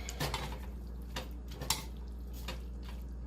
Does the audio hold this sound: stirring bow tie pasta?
yes